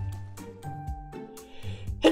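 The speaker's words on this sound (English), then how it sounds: "I sneeze so hard my shoulder hurts." A person gives a single sharp, loud sneeze near the end, over soft melodic background music while playing Fortnite.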